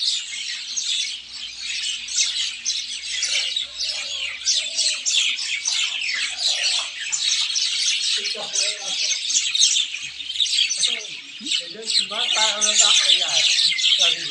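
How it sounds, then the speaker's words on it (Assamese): Birds perched on a water tank call and chirp continuously in a dense, busy chorus of overlapping tweets, with quiet talk beneath them in places. "এয়া চব এই টেংকিৰ ওপৰতো চৰাই পৰি আছে।"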